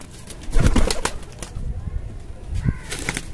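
Pigeons cooing and shuffling nearby, with a brief flutter of wings and some faint background voices.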